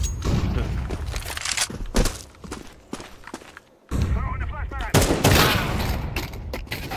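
Rapid bursts of rifle fire crackle through a Counter-Strike 2 match, sharp shots and footsteps coming in clusters under loud, excited voices of players talking.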